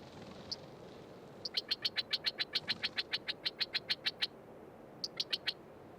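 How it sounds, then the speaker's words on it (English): A run of loud, clear, rapid chirping California quail calls in a fast regular series, pausing and then resuming briefly, over a quiet background hiss. "The loud, clear call of the California quail is fairly common again in much of the state."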